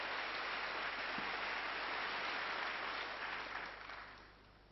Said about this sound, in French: vous entendez sans doute le public qui applaudit